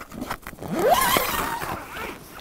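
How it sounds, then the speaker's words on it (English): A zipper on the screen of a 2021 Winnebago Revel camper van is drawn in one smooth rising rasp lasting about a second, close and moderately loud, with some light handling noise around it. "I'm just gonna reverse the zippers"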